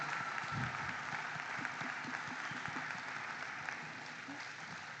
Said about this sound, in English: Would you give them a big round of applause for all their hard work?